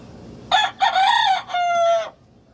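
A white fighting cock crows close and loud, one long crow broken into a few rising and held phrases over about a second and a half, with a quiet background and no talking.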